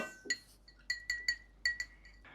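A glass cup of clean water, used for rinsing tomato seeds, clinks about seven times in a quick uneven series of bright, ringing taps, fairly close and alone with no talk.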